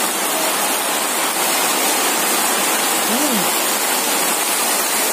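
Heavy rain pouring down on a rainy day, a loud, dense and unbroken roar that fills the whole stretch, with a faint voice barely surfacing once.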